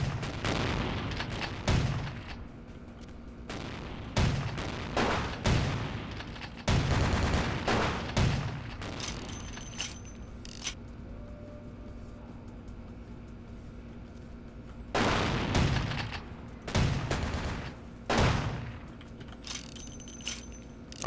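Enemies firing guns in the video game Vampire: the Masquerade - Bloodlines, with repeated clusters of sharp shots and booming reports arriving in bursts and separated by quieter stretches over a low steady hum.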